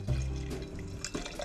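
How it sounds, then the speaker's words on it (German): Mango-flavoured energy drink is poured from a can into a glass, giving a short bubbling, splashing liquid stream that trails off into fizz and a few drips. "Wir werden jetzt auf jeden Fall wieder einschenken."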